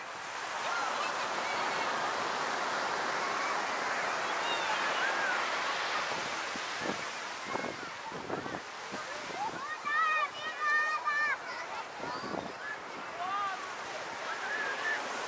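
Sea water repeatedly washes past an upward-facing camera out on the open sea, a continuous rushing hiss with surges and splashes, while a person talks over it.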